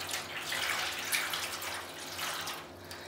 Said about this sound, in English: I'm going to add in 4 more cups of water.